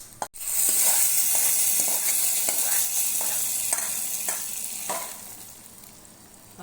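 Tempering sizzles hard as it fries and is stirred into sambar, a steady loud hiss with repeated soft scraping strokes of stirring, close up and with no talk.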